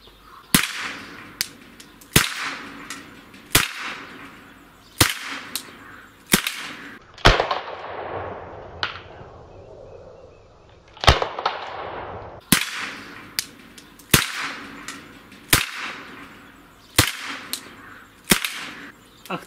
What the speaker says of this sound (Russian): сначала сделаю 5 выстрелов из револьвера под патрон Флобера